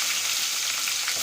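Cumin seeds and green chili sizzle in hot oil in a pan, a dense, steady crackling hiss held at an even loudness, close up, with no talking.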